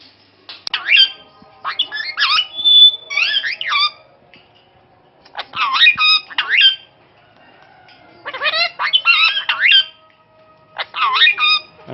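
An Indian Ringneck or Alexandrine parrot squawks and chatters in four loud, sharp bursts separated by short pauses, close and clear.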